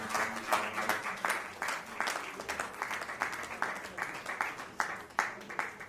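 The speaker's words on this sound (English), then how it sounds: "a round of applause for all of us who have stayed on till now" An event audience gives a round of applause, moderately sized and fairly distant, with individual claps audible in an uneven rhythm and faint talk beneath.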